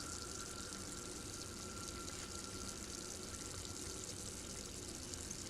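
A stream of deionized water pours onto a filter to pre-wet it in a chemistry lab during an aspirin synthesis, giving a faint, steady rushing splash that runs continuously.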